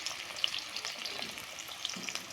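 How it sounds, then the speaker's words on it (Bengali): Chopped onion frying in oil with bay leaf, cinnamon and green cardamom makes a soft, bubbling sizzle of fine crackles and pops, quiet and brief with no voices. "পেঁয়াজটা আগে আমরা সুন্দর করে ভাজে নিব।"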